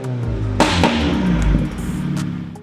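A 2015-2024 F-series Mini Cooper with an aftermarket Dinan exhaust revs loudly, rising and falling over a few seconds with a deep, rumbling burble.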